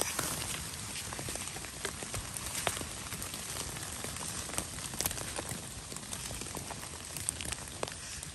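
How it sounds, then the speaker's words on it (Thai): Steady rain patters on foliage and the ground outdoors during mushroom picking, a continuous close hiss with scattered sharper drops and no talking. "เหมือนจะหยุดไปแล้วนะฝน"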